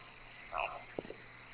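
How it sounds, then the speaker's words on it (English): A frog croaks in the Loveland demo horror game, a couple of short, low throaty croaks rising over a quiet nighttime ambience with a thin steady insect-like whine and a brief higher chirp just before. "Hello, frog."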